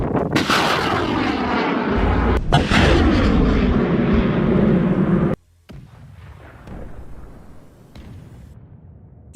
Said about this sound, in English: Ukrainian artillery keeps firing, ensuring no organized retreat is possible.